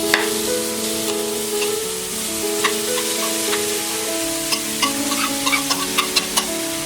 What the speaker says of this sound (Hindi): अब हम इसमें डालेंगे ये ग्रेटेड पनीर